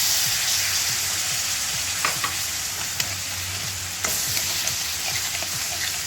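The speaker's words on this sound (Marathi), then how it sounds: "सारखं हलवत राहायचं खाली लागून नाही द्यायला पाहिजे" Coconut modak filling simmering with milk in a pan, a constant bubbling sizzle with a spoon scraping and tapping the pan at irregular intervals, close and clear with no talking.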